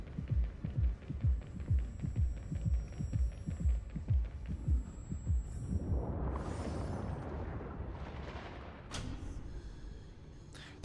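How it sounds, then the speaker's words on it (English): A loud, slow heartbeat thumps in an even rhythm in the video game Honkai Star Rail, then gives way to a swelling low rumble and a sharp burst near the end. No one speaks. "The heartbeat's getting very loud."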